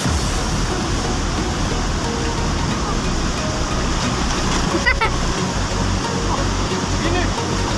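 Nirwana waterfall in North Sumatra pours with a loud, continuous rushing roar of falling water close by, while voices are heard over it.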